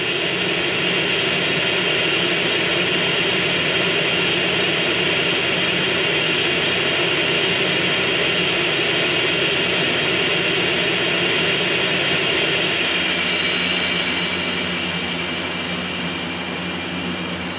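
Airplane engine in GTA San Andreas roars loudly and steadily as the plane flies low, a sustained jet-like drone that shifts slightly in tone near the end, with no talk.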